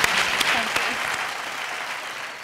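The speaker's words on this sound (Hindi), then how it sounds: "जोरदार तालियां दोस्तों वैशाली जी के लिए" A TV game show studio audience applauds a contestant named Vaishali. The clapping starts loud with a few sharp claps standing out, then thins and fades gradually.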